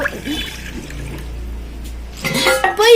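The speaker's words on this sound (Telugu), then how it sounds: "ఇప్పుడైతే మనం ఇలా వాటర్ పోద్దాం" Water splashes and trickles as it is poured for making lemon juice, ending with a brief rising gurgle as the container fills.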